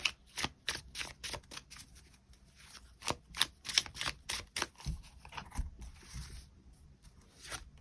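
Tarot cards are shuffled and drawn by hand in a quick run of crisp riffling bursts and flicks, close and fairly quiet, with brief pauses between bursts.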